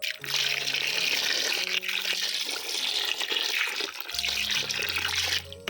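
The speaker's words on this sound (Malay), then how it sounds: "Lepas itu masukkan air." Water runs steadily from a tap into a bowl for several seconds to soak beef skin, a continuous splashing flow with clinks of a container partway through.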